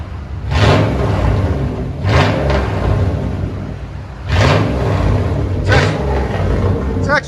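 Dodge Durango with a 5.2L or 5.9L V8 running close by, a deep steady rumble that swells in a few short revs, under someone talking throughout.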